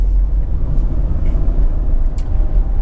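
A 2001 Renault Mégane Cabriolet 1.6 16V Privilège heard from inside while driving with the roof closed: a steady low road and engine rumble, moderately loud and even, with no talking.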